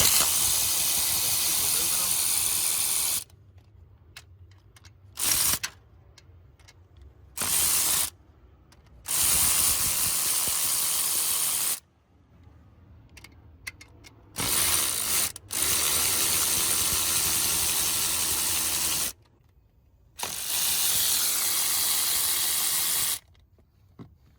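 A hand ratchet with a wobble socket turning valve cover bolts on a Gen V LT engine during a cam install, loud rapid clicking in several bursts separated by quiet gaps, with some talk between.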